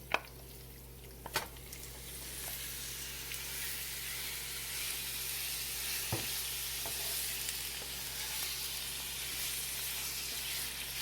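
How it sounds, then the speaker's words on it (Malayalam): Marinated chicken hits a hot pan with dried red chillies, bringing a steady, quiet sizzle with a couple of sharp utensil knocks early on and occasional soft stirring sounds, no voices. "ഇനി ആ മാരിനേറ്റ് ചെയ്ത് വെച്ചിരിക്കുന്ന ചിക്കൻ ഇതിലോട്ട് ആഡ് ചെയ്യാം"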